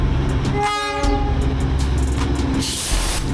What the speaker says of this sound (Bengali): আবার একটা টয় ট্রেন আসছে, সাথে রাস্তাও জ্যাম হয়ে আছে।